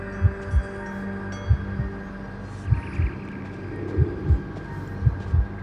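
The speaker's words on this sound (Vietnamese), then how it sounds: "Ồ, tim đập dữ." Heartbeat effect from the video game Identity V: paired low thumps repeating at a steady, quick rhythm, about five double beats, over a constant background hum, with no talking.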